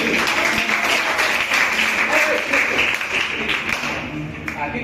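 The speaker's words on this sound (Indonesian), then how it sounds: "Tepuk tangan untuk Krisna dulu." A classroom of pupils claps for a classmate called up to the front, a fairly loud, busy round of hand clapping that holds steady throughout, with a few voices mixed in.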